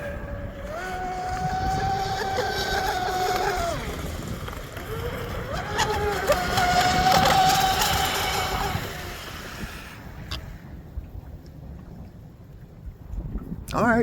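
A fast 4S RC boat, an Oxidean Dominator with ZTW 200A controller and SSS 4074 motor, screams across choppy water in a high-pitched rising and falling whine as it makes oval speed passes, with wind noise on the microphone.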